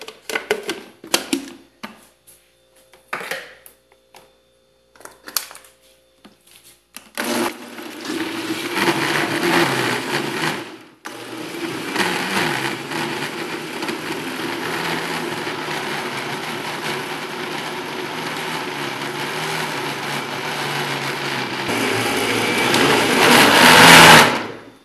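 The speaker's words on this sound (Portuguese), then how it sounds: "Agora vamos bater." A countertop blender whirring through pineapple slices, lemon balm and a litre of water, starting after a few brief clicks and handling sounds, then a steady loud motor drone with a brief pause, rising in pitch near the end.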